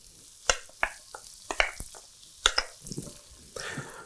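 Finely minced shallots tipped into a hot pan for a scallop and mushroom gratin, giving a scattering of sharp clicks and pops over a soft sizzle, with a few louder spits and a brief scrape or stir near the end.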